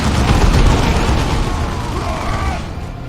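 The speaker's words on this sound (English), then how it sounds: "keeping them pinned down gives us a chance to essentially throw grenades at them" Explosions from grenades thrown in the strategy video game Dawn of War 2, a sustained dense roar of blasts and booms that stays loud throughout, with battle noise layered in.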